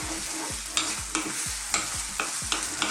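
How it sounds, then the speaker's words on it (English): Tomatoes for puttanesca sauce stirred as they fry in a pan, a steady sizzle under regular scraping strokes of the spoon about every half second, close and clear with no talking. "Keep stirring it all the time."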